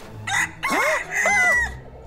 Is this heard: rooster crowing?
yes